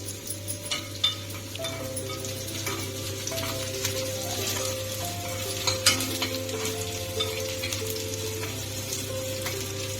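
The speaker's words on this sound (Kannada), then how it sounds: "ಆನಿಯನ್ ಲೈಟ್ ಬ್ರೌನ್ ಕಲರ್ ಬರೋವರೆಗೂ ಫ್ರೈ ಮಾಡ್ಕೋಬೇಕು" Onions fry in a pan for vegetable sagu, a steady close sizzle over a low hum with occasional spoon scrapes and taps as they are stirred.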